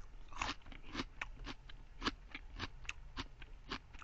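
Raw yacon, a crunchy root tuber, bitten and chewed up close, giving a steady run of sharp wet crunches roughly every half second with no talk over them.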